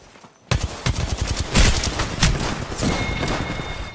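Gunfire in the Apex Legends battle royale game: after a brief quiet start, dense bursts of rapid shots and heavy impacts pound loudly and continuously, with a thin electronic tone near the end.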